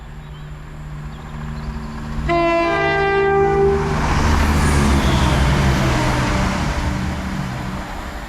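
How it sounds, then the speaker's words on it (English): An East Midlands Railway diesel multiple unit, an ex-Southern Class 171 on a Skegness to Nottingham service, runs through a Nottinghamshire station, sounding a loud close horn blast before its rumbling, clattering pass that continues to the end. "Also passing through is a East Midlands railway service from Skegness to Nottingham."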